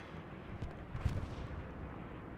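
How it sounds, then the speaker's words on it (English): Artillery fire in the World War II shooter Hell Let Loose, with a few dull, distant booms rumbling through a steady low battlefield din, the loudest landing about midway. "the artillery is putting pressure back on the defenders of the bunker complex"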